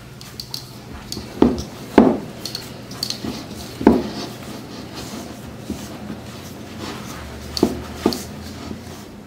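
A spoon works through cake dough for marbled croquet biscuits, giving a few sharp clacks and scrapes against the bowl, spaced irregularly over a quiet background with no talk.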